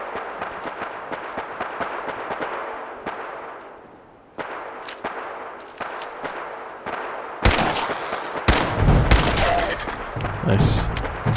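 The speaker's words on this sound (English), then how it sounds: "Lots of shooting going on." Gunfire in the Fallout 4 video game while fighting ghouls: scattered sharp shots crackle at a distance early on, then louder, closer bursts of rapid fire follow in the last few seconds.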